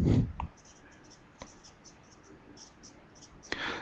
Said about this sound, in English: So let's write out the row of buttons again.